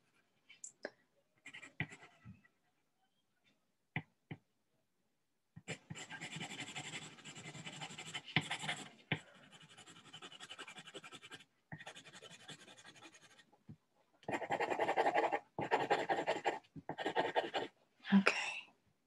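A pencil sketches the Star Wars Razor Crest on paper, with short scratchy strokes at first, then longer continuous rasping passes and quick bursts of shading, close and clear, with no talking.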